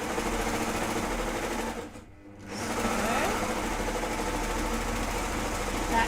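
Domestic sewing machine stitching binding, a steady close mechanical whirr that stops briefly for about half a second and then runs on at an even pace.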